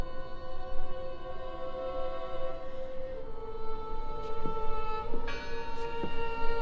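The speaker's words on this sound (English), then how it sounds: "Listen! The bell!" Bell in the horror game Draugen, ringing with long sustained tones that hang and overlap, struck again a few times partway through against a steady low ambient rumble.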